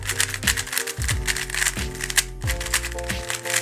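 A twisty puzzle cube being turned quickly, giving loud, rapid clicking and rattling in bursts, close up with no talk.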